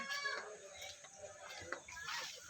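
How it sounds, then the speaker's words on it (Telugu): A golden pheasant at the Kotappakonda mini zoo gives faint, brief calls at the start and end, set against soft background noise with a little distant talk. "గోల్డెన్ పీజెంట్ అంట,"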